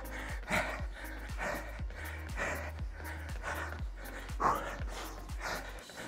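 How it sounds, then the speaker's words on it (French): Heavy rhythmic panting from a person doing a cardio and strength workout on a treadmill, with loud open-mouth breaths repeating about twice a second, close and steady, with no words spoken. "Vous entendez ma respiration?"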